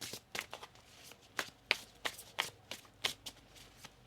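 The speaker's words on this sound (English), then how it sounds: "One more shuffle here." A tarot deck is shuffled close up, quiet papery riffles and taps coming in a loose irregular rhythm of a dozen or so soft bursts.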